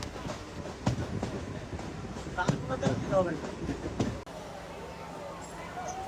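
A passenger train rolls into Murshidabad Junction, its wheels and carriages clattering with sharp knocks and squeals before the noise abruptly drops to a quieter hum; voices are heard over it.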